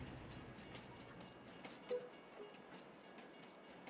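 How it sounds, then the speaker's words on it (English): A leased train rolling along in the video game Farming Simulator 22, a quiet steady rumble with faint rhythmic clacking and a few brief squeal-like tones, continuous and distant-sounding with no talking. "This is the very first time I have used the train in FS22."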